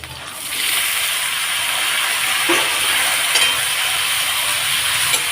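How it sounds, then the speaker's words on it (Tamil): Small onions and tomatoes for chutney sautéing in a hot pan, giving a steady close sizzle that starts abruptly and holds throughout, with faint stirring scrapes and no voices. "இது நல்லா வதங்கட்டும்"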